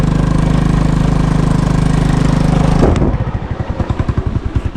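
Motorcycle engine running steadily on rough, remote terrain, a loud close drone that abruptly shifts about halfway into a choppy, pulsing chug as the ride gets bumpier.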